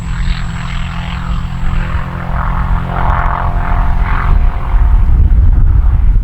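A radio-controlled Husky model airplane buzzes loudly overhead on its first flight, its engine whine steady and shifting in pitch as it passes close, with a low rumble beneath.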